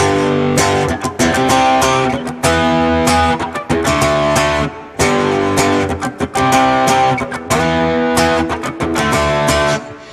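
Loud, thick electric guitar power chords played in a steady strummed rhythm, with short breaks between phrases and a dense, sustained tone throughout.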